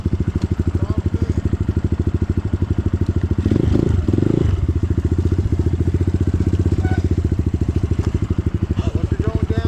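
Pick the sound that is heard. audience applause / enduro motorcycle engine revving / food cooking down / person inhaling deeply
enduro motorcycle engine revving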